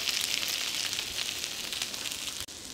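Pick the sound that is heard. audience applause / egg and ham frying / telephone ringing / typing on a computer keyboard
egg and ham frying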